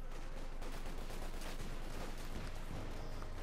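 Bren gun fire in the Company of Heroes 2 battle game, a continuous dense crackle of automatic bursts under a steady background din, mid-distance and fairly faint.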